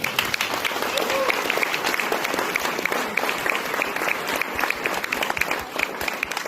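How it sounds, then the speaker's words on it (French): A theatre audience at a performance of Les Branquignols claps with dense, fast and sustained applause. It fills the room at a constant level, with voices mixed in under the clapping. "Alors, on les applaudit."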